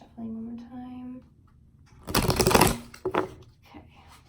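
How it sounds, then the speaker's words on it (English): A voice speaks briefly, followed by a quick riffle of cards being shuffled and a shorter second flutter. "So I'm going to be shuffling one more time."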